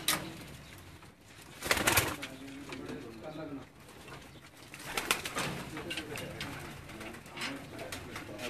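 Pigeons cooing nearby in low, rolling bursts, with a few louder calls and rustles amid background noise and some voices talking.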